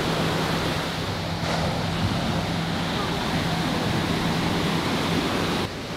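Ocean surf rolling onto a California beach, a steady broadband wash of breaking waves with a faint hum underneath, continuous and fairly loud throughout.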